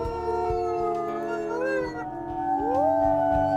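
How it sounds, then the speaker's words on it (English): Several wolves in the Wildfire game Saga Beta howl together in long, overlapping, rising and falling tones, loud and close, with a low steady rumble underneath throughout. "Let us howl in victory over this amazing day."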